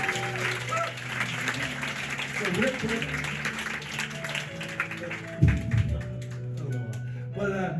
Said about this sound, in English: If you give him a nice round of applause